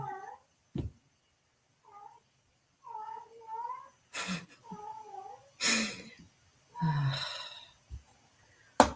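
A cat meows repeatedly in a café setting, a series of short, close, moderately loud calls spaced irregularly, rising into a few longer, strained cries toward the end, with no talk over them.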